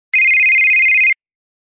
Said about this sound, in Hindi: इतने में ही फोन यहाँ पर जोर जोर से बजने लगता है।